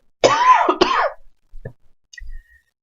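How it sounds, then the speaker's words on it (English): A couple of harsh, throaty coughs or throat clears close up, followed by quieter breathy sounds and silence. "I'm going to have to cough here a second."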